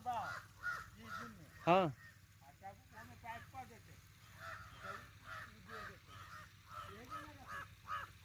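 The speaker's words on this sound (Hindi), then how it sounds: "कौवे काँव काँव कर रहे हैं" Crows caw repeatedly in a farm field, faint to moderate, in scattered harsh calls with people talking quietly between and over them.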